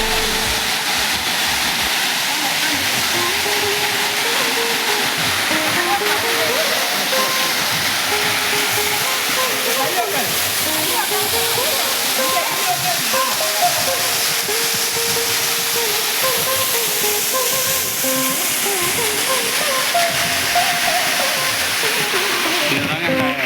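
Anaivari Muttal waterfall near Attur, Salem: a constant broadband roar and hiss of falling water, steady and loud throughout, with voices talking faintly underneath.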